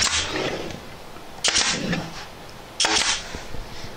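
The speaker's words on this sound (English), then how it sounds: "you have to have your gun straight or else your nails will poke through" A nail gun firing nails into a melamine cabinet, three sharp pneumatic shots spaced about a second and a half apart, close and loud over a constant background hiss.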